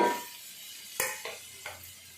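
Onion with turmeric and salt going into a hot pan while cooking a Telugu-style ridge gourd curry, with a quiet sizzle and a few sharp clinks and scrapes of a spoon stirring against the pan.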